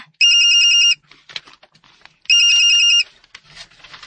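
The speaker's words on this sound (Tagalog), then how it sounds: "may nanawag sa imong phone" A phone rings with an incoming call in a home, two loud electronic ring bursts a couple of seconds apart, close by, with faint soft background noises in the gaps between rings.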